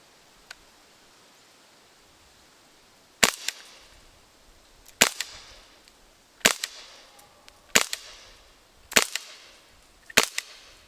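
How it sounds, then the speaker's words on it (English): Six sharp, loud handgun shots from a Secure 68P revolver ring out alone, evenly spaced about one to two seconds apart after a quiet lead-in, each a crisp crack with a short decay. "let's shoot off the 6 rounds"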